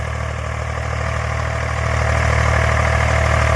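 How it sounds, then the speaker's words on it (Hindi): An Eicher tractor engine with over 25,000 hours runs at a steady, loud diesel idle, a constant low rumble and vibration that swells slightly midway. "नहीं आवाज काफी बढ़िया कर रहा ट्रैक्टर,"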